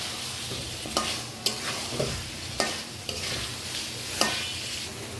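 Spicy red chicken kosha is stir-fried in a pan with a steady sizzle, and a spoon scrapes and knocks against the pan at irregular moments about once a second. No voices are heard.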